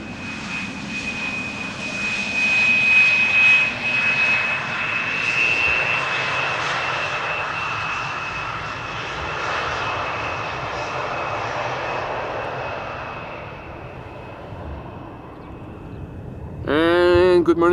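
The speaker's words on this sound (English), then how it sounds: "this is KLM Flight 758, arriving from Panama City" A KLM airliner, Flight 758 from Panama City, lands on Schiphol's Polderbaan runway with a loud, sustained engine roar and a steady whine that slowly fades; a person starts talking near the end.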